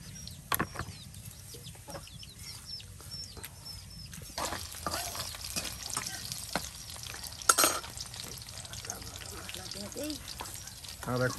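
Onions and ground spice paste fry together in a village kitchen, producing a low sizzle with frequent stirring knocks and scrapes, close by, as chickens cluck faintly and voices are heard in the background.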